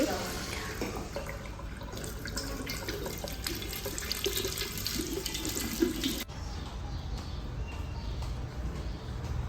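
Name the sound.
water running from a foot-pedal operated tap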